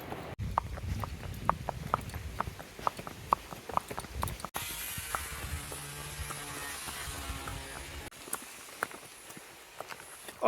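Mules' hooves clop at a steady walking pace across a bridge, a regular train of sharp, close taps with scuffing and creaking between steps and no talk.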